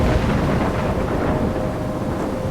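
Thunderstorm in Life is Strange: a loud, continuous low rumble of thunder mixed with dense rain noise, steady throughout with no voices.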